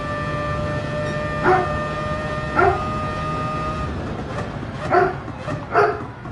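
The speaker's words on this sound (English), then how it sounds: "Archie, what are you barking about?" A dog named Archie barks in several separate bursts, moderately close, over a steady engine-like drone with tonal lines that fades partway through.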